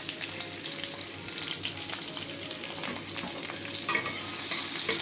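Two onions frying on full flame until browned, a loud steady sizzle with constant crackle and occasional stirring scrapes, close and continuous with no talk.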